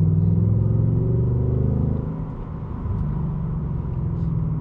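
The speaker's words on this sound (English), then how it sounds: "All you need is to listen to that rumble of the V8." A Ford Mustang GT V8 rumbles with a deep, steady low throb heard from inside the car, loud and continuous, dipping slightly midway before swelling back.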